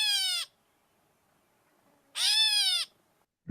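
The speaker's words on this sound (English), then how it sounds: "It really does sound like a cat meowing up there in the tree." A gray catbird gives two cat-like mewing calls, a short one and then a longer drawn-out one after a pause, each clear and close in otherwise quiet air.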